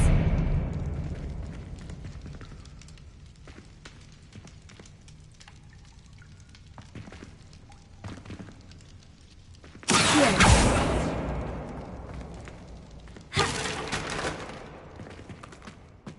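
Spell effects from a Harry Potter video game: a quiet rumbling, crackling backdrop gives way to two loud whooshing bursts, the first, longer one near the middle and the second shorter one near the end.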